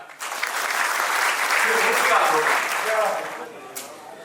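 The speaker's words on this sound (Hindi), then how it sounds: "एक बार जोरदार तालियां।" Loud, sustained audience applause fills a book launch ceremony in India, the clapping swelling steadily and then thinning out toward the end.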